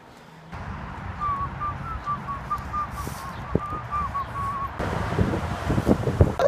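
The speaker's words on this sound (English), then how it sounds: "The wind." Wind gusting outdoors on a gloomy day, a steady broadband rush with rustling gusts that swell louder toward the end, a faint whistle-like tone drifting through the middle.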